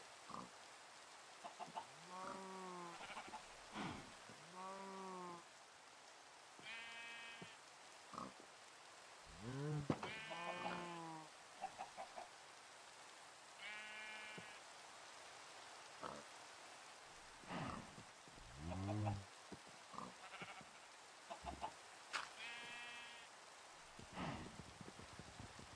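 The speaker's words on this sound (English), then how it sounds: "more sheep" Video game sheep bleating repeatedly through the stretch, short harmonic cries spaced irregularly among pig grunts and other farm animal sounds, fairly close and clear over soft background ticking, with no one talking.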